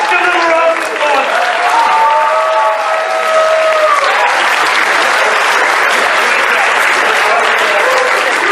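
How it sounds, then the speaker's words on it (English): Loud, sustained audience applause at an improv comedy show at a furry convention, a dense crowd clapping steadily for the full stretch, with brief voices and cheers rising over it early on. "give them a round of applause"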